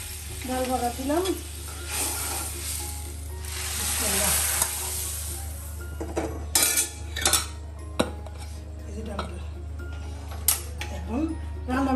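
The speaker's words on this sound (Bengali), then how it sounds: "ডাল ভাজা দিলাম" Lentils frying in a pan in a home kitchen, a steady sizzle with metal spoon scrapes and clinks against the pan, while someone talks over the cooking.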